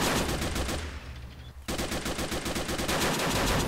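Machine gun fire in the World War II strategy game Men of War: Assault Squad 2, during an Omaha Beach D-Day battle, comes as loud, dense sustained bursts that break off for a moment and then resume.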